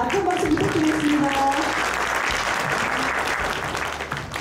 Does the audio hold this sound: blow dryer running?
no